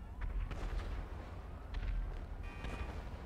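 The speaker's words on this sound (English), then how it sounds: "That's a lot of explosions" Repeated booming blasts and gunfire thud in a rapid, chaotic barrage in GTA 5 with tanks, fairly faint and distant-sounding, with game-like crackles between them.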